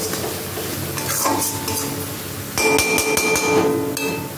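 A spatula scrapes and clinks against a metal pan while coriander and Kashmiri chilli powder masala are stirred over a faint sizzle, with sharper metallic knocks in the second half.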